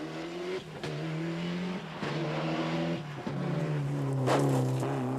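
Malcolm Wilson-built Ford Escort rally cars on a snowy stage of the 1994 Circuit of Ireland Rally, engines droning loudly with repeated gear-change drops and revving climbs, steady and close throughout.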